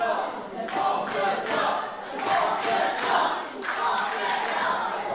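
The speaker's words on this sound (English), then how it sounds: "Crowd calling for off the top" Crowd at a pro wrestling show, chanting and shouting in rhythmic surges roughly every half second to second, loud and close, with claps and thumps mixed into the swelling noise.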